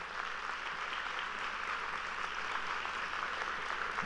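An audience at a community arts event applauds in a steady, dense wash of clapping that holds at an even level for several seconds, with no talking.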